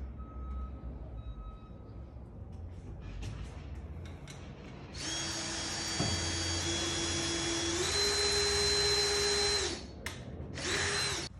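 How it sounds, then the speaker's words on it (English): A power drill with a 1/8 drill bit bores into a ceiling rafter during a lift installation, whining loudly in two long sustained bursts that shift pitch under load, followed by a short third burst. "So you got to use your 1/8 drill bit and start drilling."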